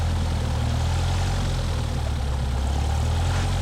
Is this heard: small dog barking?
no